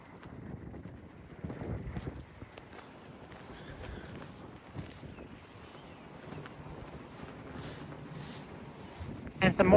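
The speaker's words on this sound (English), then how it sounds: "It's windy, but I love it." Wind blows outdoors at Fort Mifflin, near the old barracks, buffeting the microphone as low, uneven rumbling gusts with a strong burst at the end, while someone talks.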